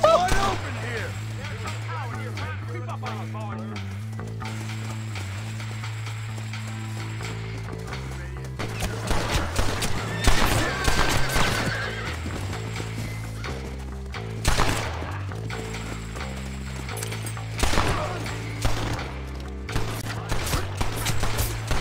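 Gunfire in the Western video game Red Dead Redemption: scattered sharp shots and bursts over a steady musical drone, with horse hooves clopping and a voice talking intermittently.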